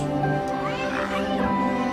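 A cat meows briefly in a Pinocchio film trailer, a short rising-and-falling cry near the middle, set over steady orchestral music.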